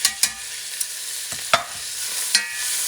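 Braised halal beef shank mixture stirred in a pot with a steady, loud sizzle and a few sharp scrapes of the utensil against the pot, no voices.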